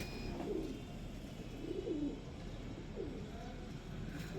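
A dub pigeon, a breeder's show bird, coos faintly in a few short rolling phrases over a steady low hum, quiet and somewhat distant.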